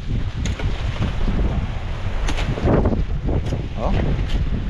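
Strong gusting wind ahead of typhoon Uwan blows through a yard of papaya trees. It roars in a loud, steady rush, with rustling and brief knocks mixed in and muffled voices underneath.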